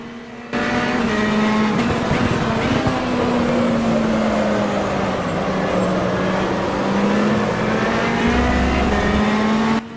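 Race car engine in the rFactor 2 racing game at Spa, revving loud and steady with shifting pitch through a flat-out lap, with brief gear changes and a hint of tire noise, no talk.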